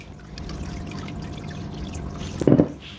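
Caster sugar poured into a saucepan that already holds glucose, a soft continuous granular trickle that swells into a brief louder rush near the end.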